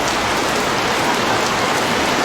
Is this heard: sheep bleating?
no